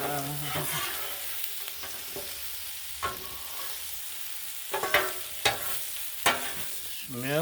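Chicken tortellini pasta sizzles on a Blackstone flat-top griddle while being stirred and mixed, a steady frying hiss broken by several sharp scraping clicks of a spatula on the metal surface.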